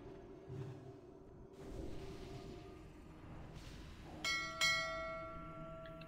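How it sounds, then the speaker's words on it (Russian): A bell in a video game strikes twice in quick succession over a quiet background, each ringing note bright and metallic and fading slowly. "можно звук вырубить от этого ебаного колокола"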